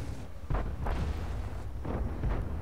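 Tank cannon shots in World of Tanks, tier 6 battle: several heavy booming blasts roughly every half second to second, loud and close with rumbling low end, no voices over them.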